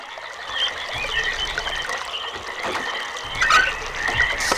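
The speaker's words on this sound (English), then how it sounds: "There's all the sounds of frogs and stuff." Frogs croak in the realMyst video game, a steady chorus of raspy calls layered over a trickling water ambience, with a louder burst of croaking near the end.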